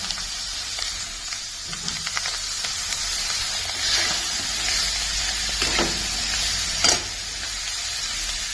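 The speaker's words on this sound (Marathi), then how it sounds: "ह्या भाज्या घालून छान परतायच्या" Vegetables sautéing with homemade garam masala in a pan, a steady close hiss of frying with faint stirring scrapes and a brief louder scrape near the end, no talking.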